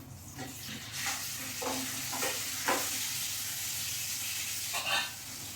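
Urad dal frying in a pan gives a soft, steady sizzle with occasional light stirring taps and scrapes, fairly quiet and with no voices.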